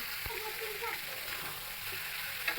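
Spices being fried and stirred in oil for a raw banana dish give a soft, continuous sizzle with faint scraping, quiet and without talk.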